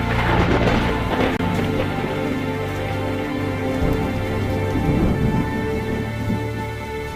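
A heavy rainstorm pours down steadily, with rumbling thunder rolling underneath and a faint tonal layer like soft music beneath the dense rain.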